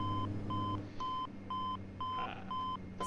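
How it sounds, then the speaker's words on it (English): An overspeed warning in a Dash 8 cockpit in the P3D flight simulator beeps steadily. Evenly spaced tones repeat about twice a second over a low cabin hum, with no talk. "Overspeed, overspeed. Slow down!"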